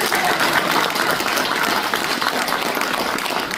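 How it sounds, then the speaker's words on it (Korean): A seated audience at a Korean elders' honors awards ceremony claps in sustained, dense applause that stays loud and even from start to finish. "여러분 그렇게 생각하시면 큰 박수 한번 부탁드리겠습니다"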